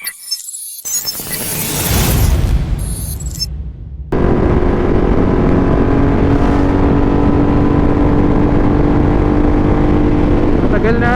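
A motorcycle on the road, with some rattling and handling noise at first, then a loud, steady engine drone and wind rush that carries on without a break.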